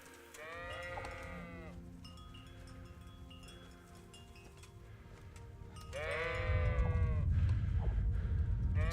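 Sheep bleat in the medieval game Kingdom Come: Deliverance, two wavering, nasal cries several seconds apart over a soft outdoor ambience of wind and rustling, the second call louder and nearer, with no speech.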